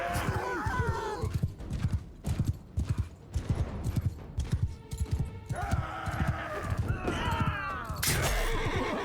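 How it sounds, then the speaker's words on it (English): Horse neighing and whinnying in the video game Mount and Blade II: Bannerlord, several loud whinnies over rapid clip-clopping hooves and battle clatter, with no voice heard. "Hey, leave my horse alone."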